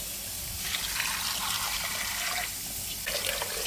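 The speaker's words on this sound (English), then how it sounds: "I'm going to put in about 6 to 8 cups of water" Water pours steadily into a cooking pot, about 6 to 8 cups, a continuous splashing rush that shifts in tone partway through. No one speaks.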